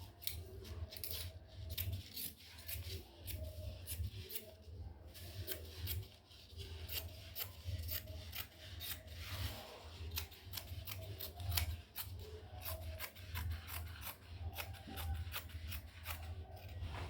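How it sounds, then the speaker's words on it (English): Scissors snip through shirt fabric in a steady series of close, crisp cuts, repeating rhythmically throughout with soft handling rustles in between. "Then I'll go ahead and cut it out."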